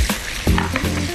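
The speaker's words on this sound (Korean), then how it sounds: "당면하고 또 파까지 같이 집어넣고 한 번 더 볶아주도록 하겠습니다. 자, 전체적으로 어우러지도록 볶아주시고요." Beef, cabbage, glass noodles and green onion stir-frying in a pan, with a steady sizzle and a few scraping stirs close by, and no voices.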